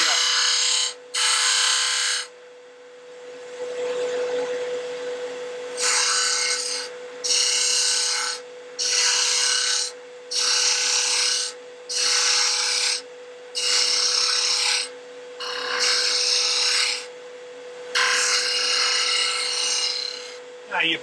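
Lathe tool cutting a spinning wood blank for a bottle stopper, with about nine rasping bursts of a second or two each separated by short pauses, over a steady motor hum, close and fairly loud.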